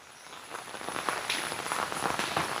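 Steady monsoon rain falls in Kerala, a soft even hiss of drops spattering on surfaces nearby with scattered louder patters and no voices.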